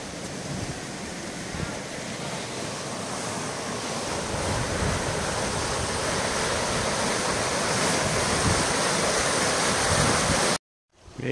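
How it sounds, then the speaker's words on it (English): Biddeston River rushing steadily beside a muddy walking track, a broad, continuous wash of flowing water with wind buffeting the microphone, cutting off abruptly near the end. "Here's the Biddeston River, and we've got to go over the bridge."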